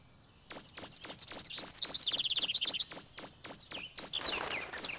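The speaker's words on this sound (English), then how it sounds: "Get out of here, bird." Bird chirps from the video game MegaMan Legends, a rapid run of bright tweets and trills over a quick pattering of footstep-like clicks, fairly close and with no talk.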